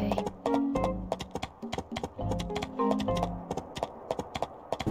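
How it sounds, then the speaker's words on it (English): Rhythmic horse hoofbeats clip-clop steadily while riding a horse in the farming game My Time at Portia, heading toward the desert ruins; the clear, close hoof strikes repeat over a bed of background game music. "from there we'll ride our horse to the desert ruins"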